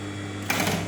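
A sewing machine stitches ribbon using a magnetic sewing guide, a steady close mechanical whir that runs throughout and grows slightly louder and busier partway through the short burst.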